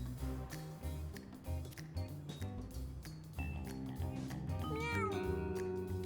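Cartoonish cat meows rise over busy video game music and sound effects during a Mewgenics run, a couple of short mews near the end standing out above the steady layered score.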